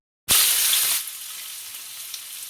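Cumin seeds, garlic and chili hit hot oil in a pan for a loud, sudden hiss that fades after about a second into a steady, softer frying sizzle.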